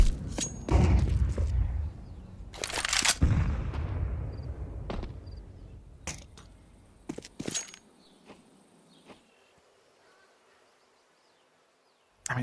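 HE grenades burst in a Counter-Strike match, several loud booming blasts and sharp cracks packed into the opening seconds, then scattered shots and clicks as the noise thins out toward near silence.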